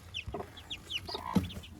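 A growing Brahma chick gives quick high chirps and soft clucks in a brief close burst, several calls in under two seconds with no talk.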